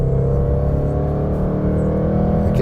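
A 2020 Jaguar F-Pace SVR's engine drones loud and close on a twisty road, a steady throaty hum held at constant revs for a few seconds, alone with no talk.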